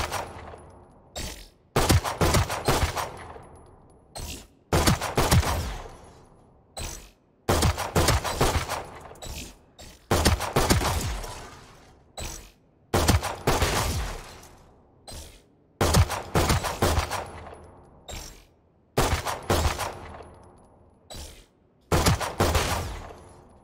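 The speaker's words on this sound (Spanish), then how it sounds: "El disparo secundario es una ráfaga de 3 balas" Valorant Classic pistol firing its secondary three-round burst, loud close-up shots in repeated clusters with short pauses between each burst, no talking.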